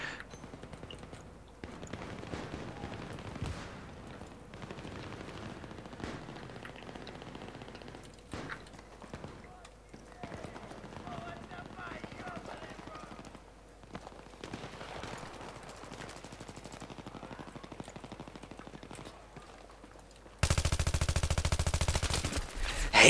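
Bursts of machine-gun and rifle fire crackle from a Battlefield 3 match, mid-distance and steady under ambient noise, with a much louder harsh burst near the end.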